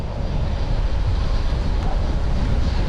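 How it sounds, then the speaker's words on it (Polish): Loud, steady wind buffeting a microphone while travelling through Clifton, New Jersey, a dense low roar with no pauses and no voices. "bo bardzo mocno wieje wiatr"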